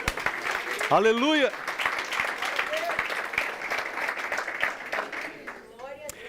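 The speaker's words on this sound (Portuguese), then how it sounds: "Ele merece uma salva de palmas." A church congregation claps during a Portuguese-language service, a full wash of hands under a loud shouted exclamation and other raised voices, continuing evenly to the end.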